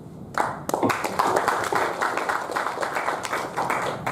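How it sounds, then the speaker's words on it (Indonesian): Steady applause from an audience at a Bantul culture council focus group meeting, honoring the head of the culture office; dense, continuous clapping that starts abruptly and holds at an even level throughout. "Sekali lagi tepuk tangan untuk Bapak Kepala Dinas"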